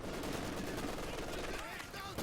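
Dense, continuous machine gun fire from G42 and Maxim guns in Company of Heroes 2, rapid overlapping bursts in a distant battle wash under talk.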